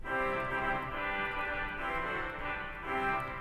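An 8-foot trumpet reed stop on a large church pipe organ blares a sustained, bright, brassy chord, loud and reverberant, holding steady with gentle shifts in the harmony.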